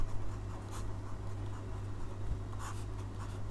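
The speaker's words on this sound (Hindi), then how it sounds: "पहले तो ये लिख लेते हैं" Pen writing on paper while working a class 12 differentiation math problem, faint scratchy strokes coming in short spurts over a low steady hum, no talking.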